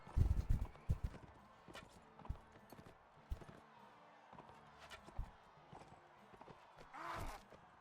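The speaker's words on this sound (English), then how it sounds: "That's a friendly horse." Horse hooves thud irregularly in Mount and Blade Warband, a few loud hits early, then sparser, quieter steps, with a louder snort-like burst near the end.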